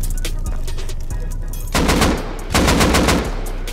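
Auto turrets in the Rust video game fire loud, rapid automatic bursts, two heavy volleys breaking through continuous close gunfire.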